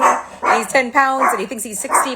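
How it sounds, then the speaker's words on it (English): A small dog of about ten pounds barks excitedly at a car driving past a house, a quick run of sharp yips and bow-wows mixed with a person talking close by. "That's my dog barking right now because somebody is driving by."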